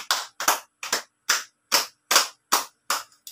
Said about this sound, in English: let's give grade 1 group 2 a mosquito clap